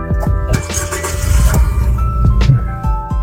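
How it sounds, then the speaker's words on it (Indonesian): A Nissan Juke Revolt Black Edition is started with its keyless push button, giving clicks and whirs followed by the engine catching and settling into a low idle, recorded close up. "Lanjut kita coba nyalakan mobilnya."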